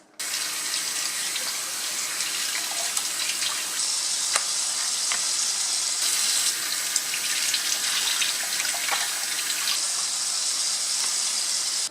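Tap water pours steadily into a sink while beef liver is washed under it, a close continuous hiss and splash with slight shifts as the stream hits the meat, no voices.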